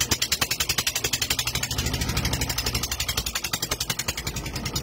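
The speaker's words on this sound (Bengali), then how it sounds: "তো নৌকা আমাদের স্টার্ট দেওয়া হলো।" A small river fishing boat's engine chugs to life and settles into a steady, rhythmic idle, loud and close with a regular pulsing beat throughout, no talking heard.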